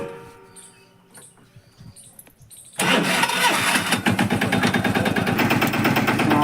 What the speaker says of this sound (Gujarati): હા હે ટ્રેક્ટર હાલો કરી દઈ શરૂ